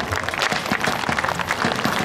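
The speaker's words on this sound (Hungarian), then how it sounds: "De azért a tüzéreket is tapsolják meg" Festival audience applauding the artillery unit at a fortress day event, a steady dense patter of clapping hands throughout, fairly loud and continuous with no talk over it.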